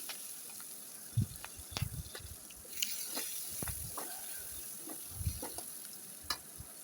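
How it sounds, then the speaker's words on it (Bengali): Onions tipped into hot oil with panch phoron and green chillies fry with a steady low sizzle, broken by several sharp stirring scrapes and clatters at close range, with no one speaking. "মাছগুলো ভেজে তুলে নিয়েছি তারপর পাঁচ ফোড়ন লঙ্কা দিয়ে দিয়েছি তেলে আর এখন পেঁয়াজগুলো দিয়ে দেব"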